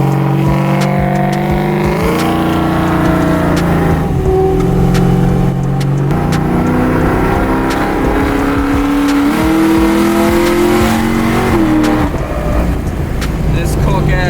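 A naturally aspirated 500+ horsepower Pontiac GTO engine revs hard at wide-open throttle and climbs through several gear shifts, roaring close by with some voices underneath.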